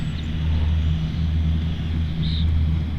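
An FMS F-18 radio-controlled model jet coming in to land, a steady loud rumbling drone that holds for the whole stretch, with a faint higher whine rising briefly near the end.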